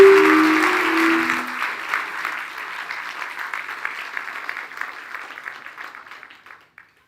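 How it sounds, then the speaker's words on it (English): A lecture audience gives a warm round of applause to a visiting professor, loud at first, then thinning and tapering into scattered claps as it fades out. "Give him a warm hand of applause,"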